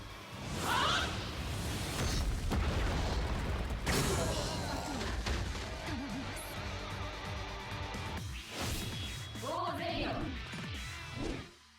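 Visored Lisa's Soul Bomb special attack in Bleach Brave Souls sets off a dense run of game effects: sweeping whooshes, crashing impacts and rapid bursting blasts, loud and continuous for about twelve seconds with a brief lull near the end.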